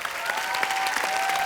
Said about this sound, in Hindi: अक्षय बाजी और हुमा के लिए जोरदार तालियां, और हमारे साथी कलाकारों के लिए जोरदार तालियां